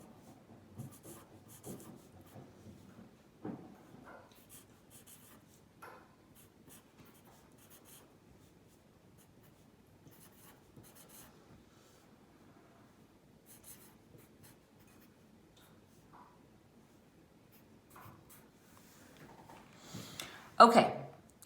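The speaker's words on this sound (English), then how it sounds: "I'm going to write it down exactly like it is in the book" A pencil or pen scratches out an algebra problem on paper, a soft, steady rubbing and tapping of strokes close up, with a person talking quietly over parts of it.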